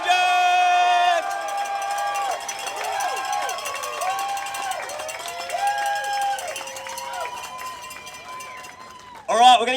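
A crowd at a 2023 Major League Rugby championship rally cheers, whoops and shouts loudly after an announcer's introduction, a sustained roar of many voices with whistles and cowbell-like clangs, swelling again near the end.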